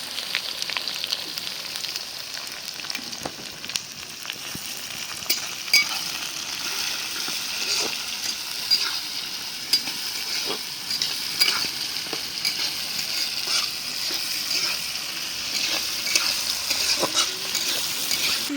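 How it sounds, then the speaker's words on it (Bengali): Onion, garlic and green chilies fry in a hot pan with a constant loud sizzle and occasional clinks and stirring scrapes, no talk. "পেঁয়াজ রসুন মরিচ সব ভাজা নিলাম, আধা ভাজা করে নিলাম।"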